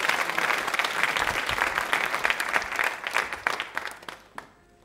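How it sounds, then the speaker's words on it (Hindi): An audience at a quiz show marking one year of Prime Minister Narendra Modi's government claps loudly together, the brisk crowd applause holding steady before thinning out and stopping near the end. "जोरदार तालियां बजाइए"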